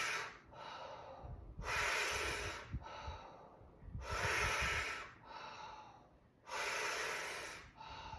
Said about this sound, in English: Take a breath in. And now bring that left shoulder down towards the right knee. Exhale. And 6 breaths.